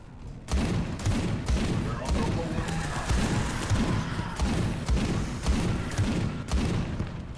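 Repeated gunfire in the video game Space Hulk Deathwing, a rapid series of loud shots and booms over several seconds, with people talking and game noise mixed in.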